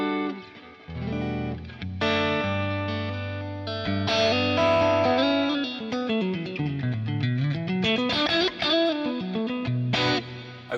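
An electric guitar plays through an amp set like a Deluxe Reverb with the delay switched off, giving a clean, close run of melodic notes and sliding bends, played alone with no talking.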